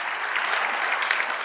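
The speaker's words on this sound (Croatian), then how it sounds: "da vas malo još jednom nagradimo jednim pljeskom" An audience applauds the jury at the Vizionar godine 2025 awards ceremony, steady dense clapping from a crowd filling the short moment with no voices over it.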